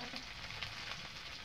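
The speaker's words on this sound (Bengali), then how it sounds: "এই যে দেখো আর মশলাটা ভালোভাবে ভাজা গেছে।" Spice masala of turmeric, cumin and coriander powders frying in oil in a pan, a steady close sizzle with faint stirring scrapes and no voices.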